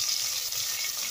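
Onions frying in a pan for chicken sotanghon guisado, heard as a steady, close sizzle with a soft stirring texture, brief and without talk.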